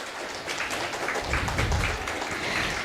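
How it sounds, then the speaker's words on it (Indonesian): Steady applause from a crowd, a broad wash of clapping that swells slightly midway and holds through to the end. "Tepuk tangan untuk seluruh panitia."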